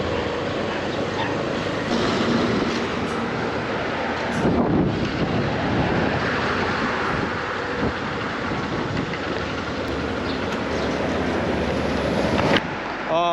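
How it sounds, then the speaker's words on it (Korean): Strong wind roars steadily in Texas, a loud broadband rush buffeting the microphone for the whole stretch with gusty surges and no voices. "바람이 얼마나 세냐."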